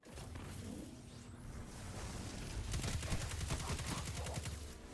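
Rapid gunfire in the Destiny 2 Glassway Grandmaster Nightfall, a whoosh then dense fusillade of quick shots building in the second half, no voices.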